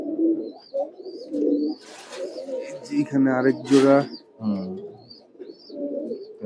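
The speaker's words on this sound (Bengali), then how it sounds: "দোনোটা কবুতর আশা কবুতর সিলভার। এগুলো দোনোটাই আশা কবুতর, নিজের পাল্লা করা কবুতর এগুলো।" Silver pigeons coo in repeated low throaty rolls close by, with someone talking over and between the calls.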